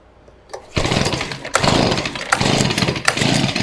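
A Stihl BG50 gas leaf blower is pull-started at half choke. After a faint moment, the small two-stroke engine bursts into a loud, close, raspy roar that pulses and surges several times as it catches and runs.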